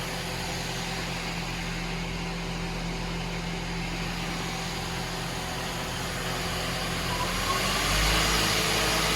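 Hyundai Wia L150LMA CNC turning center with its spindle spinning up through rising speeds, a quiet steady whir with faint tonal hum under broadband machine noise, growing slightly louder near the end.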